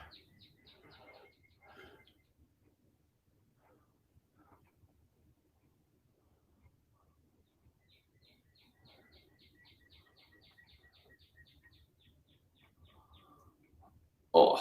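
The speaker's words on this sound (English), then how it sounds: "I don't know if you can hear the birds going off this morning." Birds chirp outdoors in the morning in short, faint bursts of repeated high notes, separated by long quiet stretches with a soft low rumble in the background.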